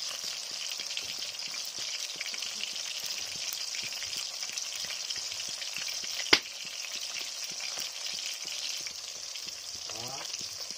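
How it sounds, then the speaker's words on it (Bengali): Chitol fish pieces fry in oil with a soft, steady sizzle and scattered pops close by, broken by one sharp click of a utensil near the middle. "ধুনীয়াকৈ আমি এতিয়া মাছখিনি ভাজি ল'ম"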